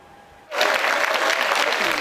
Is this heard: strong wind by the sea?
no